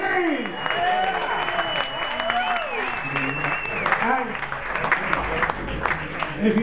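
An audience at a San Francisco arts festival fundraiser keeps clapping steadily, a broad wash of applause with shouts and cheers rising above it.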